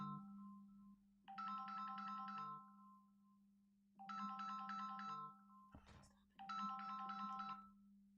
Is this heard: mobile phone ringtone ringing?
yes